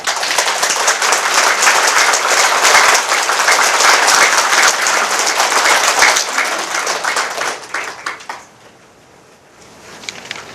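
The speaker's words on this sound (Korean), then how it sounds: "박수 한번 해봅시다" An audience at a book publication celebration bursts into dense, loud applause of many hands, sustained for about eight seconds before it quickly thins and fades to near silence.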